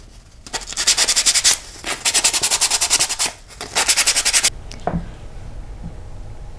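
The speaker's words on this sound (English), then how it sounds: "I'm just sanding them by hand with sandpaper." Wooden toy blocks are sanded by hand with sandpaper in three bursts of rapid, rhythmic back-and-forth scraping, close and fairly loud, followed by a few soft knocks and handling sounds.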